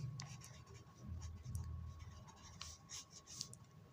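Pen scratching across paper while writing out a math solution for a Class 8 proportion exercise, soft continuous strokes with brief pauses, a faint hum underneath and a voice talking in the background.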